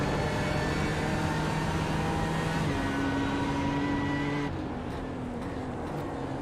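Race cars in a racing video game accelerate around Watkins Glen, engine notes droning steadily and then stepping up in pitch as they shift, loud and close, with no talking.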